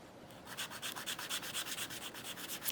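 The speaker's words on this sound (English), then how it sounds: "I'm going to take my file and I'm going to start filing the sides" A nail file filing along the sides of acrylic nails, a quick steady run of soft, close scratchy strokes, faint and alone.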